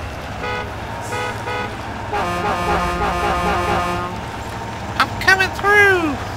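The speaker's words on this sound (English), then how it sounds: "you want to honk a horn at me?" Truck horn in the off-road driving game Spintires: MudRunner, heard as a few short honks and then a long, sustained loud blast, with a person talking over it throughout.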